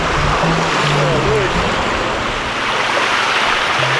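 A large river in the Scottish Highlands being waded across, with loud, steady rushing water filling the whole clip, close by and continuous, with a faint voice briefly under the roar.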